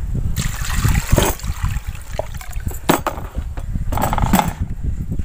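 Goat heart pieces washed under running water in a tank, with splashing, trickling and handling knocks in bursts, loud and close, no talk.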